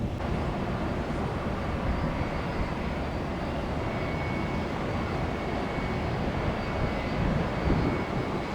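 Frontier Airbus A320neo jet airliner passing at an airport on a red-eye arrival from Denver, a broad continuous engine roar that holds steady and loud for the whole stretch, with no voices.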